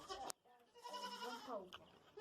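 A goat bleats close by on a garden homestead, giving one long, wavering cry after a short knock at the start.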